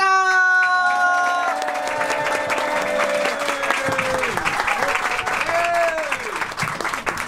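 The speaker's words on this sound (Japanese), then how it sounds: "大きな拍手でお迎えください" A live audience at LIVE Cafe Jive breaks into loud, sustained applause as a performer is welcomed, rising out of a fading musical tone with voices sliding in pitch above the clapping.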